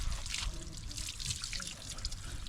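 Warm water splashes and trickles steadily over a dog as kids rinse it during a bath, with a continuous close hiss of running and dripping water.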